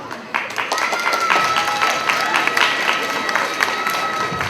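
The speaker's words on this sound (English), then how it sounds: "Thank you, our cheering crowd." A large community crowd at a Muslim Excellence & Joy event in 2024 cheers and applauds steadily, a dense wash of clapping and shouts with voices mixed in throughout.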